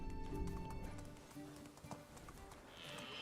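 Horse hooves clip-clopping while riding in the medieval village game Medieval Dynasty, a steady run of soft hoofbeats under light background game ambience and tones.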